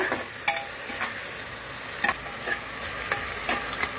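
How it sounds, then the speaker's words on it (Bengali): Onions sizzle steadily in a pan with a constant hiss, broken by a few sharp clicks and scrapes of a spoon stirring. "পেঁয়াজটা ভাজা হচ্ছে"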